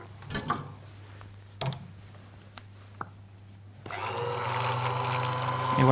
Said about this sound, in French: Allez, un petit coup de mixeur plongeant.